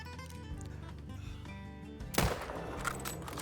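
A gunshot fired at a grizzly bear in theHunter: Call of the Wild, one sharp loud crack with a short tail over steady background game music, no talking.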